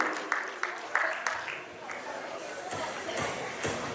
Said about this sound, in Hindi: एक बार जोरदार तालियां हो जाए दोनों कपल्स के लिए